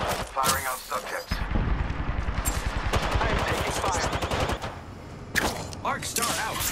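Rapid gunfire rattles in Apex Legends, bursts of automatic shots coming close and loud with short pauses between volleys, mixed with other game effects.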